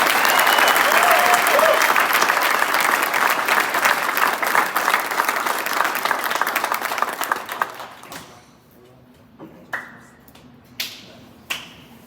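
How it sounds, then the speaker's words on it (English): Loud audience applause at a unified soccer team signing day for Nashville SC, sustained clapping that fades after about eight seconds into a quiet room with a few sharp isolated taps. "please give a huge round of applause for number 18, Seth Isabel."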